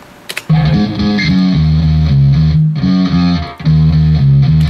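A distorted bass guitar through a Quickrod amp model plays a steady riff of repeated low notes, loud and gritty, with brief pauses between phrases and no voices.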